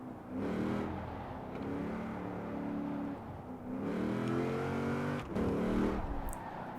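A car engine in Forza Horizon 4 revs and climbs through gears, with rising, falling tones and brief gaps at shifts, a steady mid-level roar with no one talking over it.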